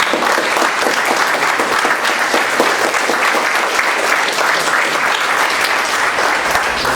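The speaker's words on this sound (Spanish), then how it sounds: "También un fuerte aplauso para él, por favor." Dense, sustained applause from an audience at a book presentation, steady and loud throughout with no voices over it.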